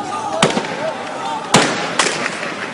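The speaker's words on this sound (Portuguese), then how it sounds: "O som dos tiros não deixa dúvida." Gunshots fired by regime forces in Libya, several sharp distant cracks spaced irregularly over a few seconds against a noisy outdoor background with voices.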